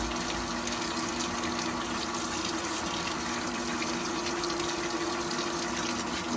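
Steady water gushing from a newly installed Jetmatic hand pump at a well, a continuous loud rush of liquid filling and splashing with no talk over it.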